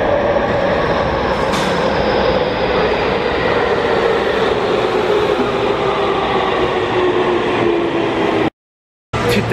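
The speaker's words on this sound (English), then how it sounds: "Oh wait, the train's coming." A train pulls into a station in Tokyo, a loud, continuous rumbling roar of railcars passing close by with a faint squeal, cutting off abruptly near the end.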